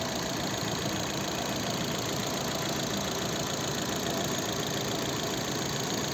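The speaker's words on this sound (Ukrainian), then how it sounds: "Так, робота двигуна." A 2010 Opel Zafira 1.8 MPI petrol engine idles steadily and evenly, a continuous low mechanical hum close by with a faint rhythmic ticking, no talking.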